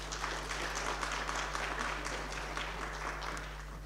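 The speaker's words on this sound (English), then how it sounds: "Let's clap hands for her." A conference audience at a health sciences research day claps for a presenter, steady many-handed applause at moderate distance, continuous and even throughout with a low hum underneath.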